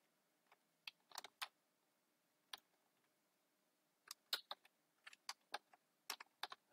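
Someone types on a computer keyboard in irregular bursts of sharp, close clicks separated by short pauses, with no talking.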